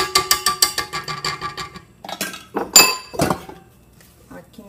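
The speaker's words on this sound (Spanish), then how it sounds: "con la espátula vamos a ayudarla a despegar lo que le pudiera haber quedado" A quick run of bright metallic clinks as a spatula knocks against a mixing bowl of chocolate sponge cake batter, followed by a few rougher scraping bursts and quieter handling noises.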